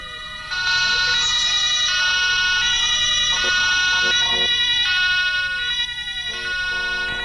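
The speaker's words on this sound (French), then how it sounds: "Tout le monde a mis les sirènes là, mais tout va bien." Several emergency sirens wail together in the video game Emergency Hamburg, each tone sweeping downward over and over in a loud, overlapping, repeating pattern.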